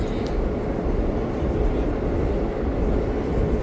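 Vande Bharat train running through a 25-kilometre railway tunnel between Srinagar and Jammu, a steady, loud, dense rumble with constant roar and no breaks.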